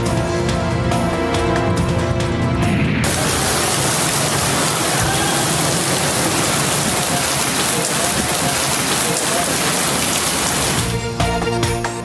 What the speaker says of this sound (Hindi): पंजाब के मुख्तलिफ इलाकों में घन गरज के साथ बरसात।